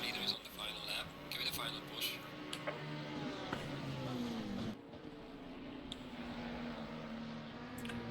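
Race cars lapping the Nürburgring circuit in a racing series, engine notes rising and falling at a distance under continuous commentary, with a passing car sweeping down in pitch partway through.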